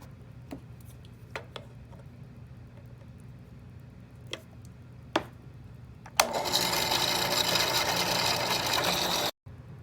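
A drill boring a hole in the steel rear quarter body of a 1966 Ford Mustang, a steady loud whirring grind that starts abruptly after several quiet ticks and clicks and runs for a few seconds before cutting off.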